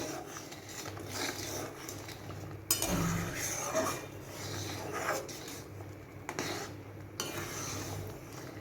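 A spoon stirring sugar into a dal of stalks and jackfruit seeds, quiet scraping and clinking against a pot in uneven strokes, with a few sharper knocks along the way.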